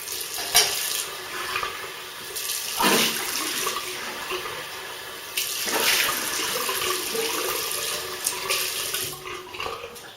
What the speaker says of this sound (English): so I just rinse off